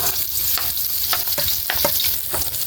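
Onions hitting a hot pan for ginisang ampalaya, sizzling loudly and steadily while a utensil stirs them with several sharp scraping strokes.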